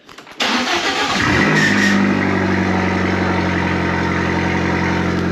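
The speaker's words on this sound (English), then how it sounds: "The car turned on, which is good." An Abarth 595 with a decat exhaust and its exhaust valve open cranks briefly, fires up with a sharp flare of revs, then settles into a loud, steady, burbling idle close by.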